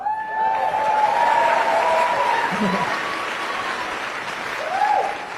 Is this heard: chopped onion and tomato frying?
no